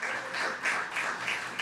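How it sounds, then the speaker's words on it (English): Audience applause at a Caribbean Heritage Month celebration, a brief, fairly faint patter of clapping from a modest crowd that swells slightly and fades. "Give her a round of applause."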